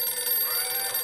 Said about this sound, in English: There's our phone. Pick it up for me, would you?